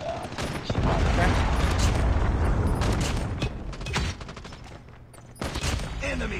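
Rapid automatic fire from the Peacekeeper MK2 in Call of Duty Mobile, a dense sustained burst that dominates most of the clip, dips briefly and then resumes, with game sound effects mixed in.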